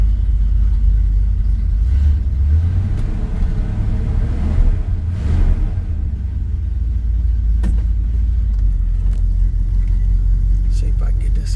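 A pickup truck engine runs at a steady, low, rumbling idle close by outdoors, holding an even drone for several seconds.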